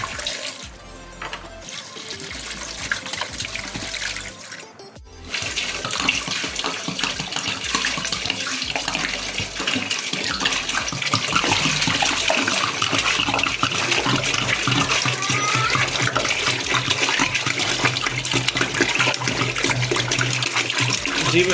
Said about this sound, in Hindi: पानी ऐड कर देंगे।